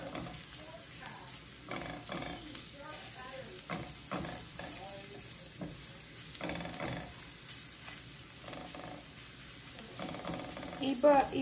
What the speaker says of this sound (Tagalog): Garlic natin, guys. So, igigisa lang po natin